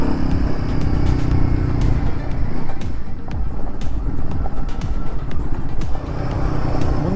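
A Royal Enfield Guerrilla 450 roadster rides along at steady speed, its engine drone loud and continuous under heavy wind rush throughout.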